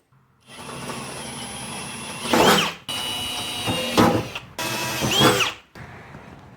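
A power drill whirs steadily through material in three bursts, stepping up to a 5mm bit while fitting a Safari snorkel to a Mitsubishi Triton, pitch rising and straining as the bit bites, with brief pauses between.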